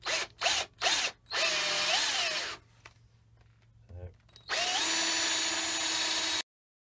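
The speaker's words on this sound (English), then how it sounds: "We're going to drill approximately halfway through this" A power drill bores holes into a wooden goblet in several short bursts, then one longer whine that sags as the bit bites, a pause with faint clicks, and another sustained run, close and clear.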